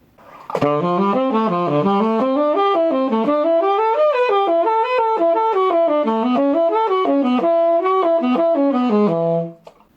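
A guitar runs pentatonic scale patterns up the cycle of fifths in a steady, continuous stream of clear single notes, climbing and shifting key, loud and close before ringing out.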